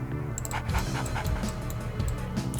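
A dog unit in the real-time strategy game Yuri's Revenge pants steadily amid game sound effects, with a continuous, fairly loud breathy rhythm and no talking.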